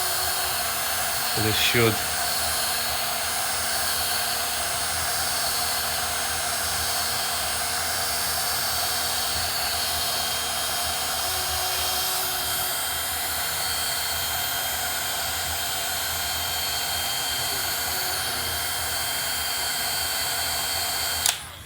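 A corded heat gun blows hot air in a steady, continuous broadband whoosh lasting throughout, with brief speech near the start.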